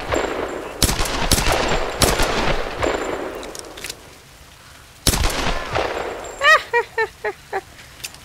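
Rapid bursts of automatic gunfire in the video game Tomb Raider crackle in quick volleys, then a pause before more shots and a run of five or six sharp, evenly spaced pops.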